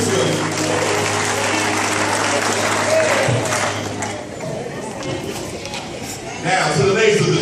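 Church congregation clapping and applauding during a Men's Day service, a steady dense wash of hands with crowd noise and voices mixed in, loudest at the start and swelling again near the end.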